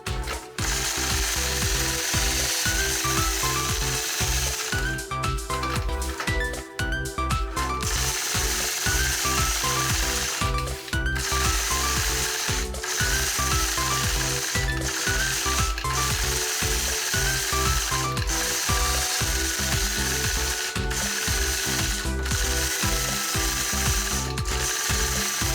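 A Sway 4 quilting machine runs steadily through free-motion quilting of scallop feathers, a loud, close, rapid mechanical clatter with rhythmic stitching pulses and occasional brief pauses.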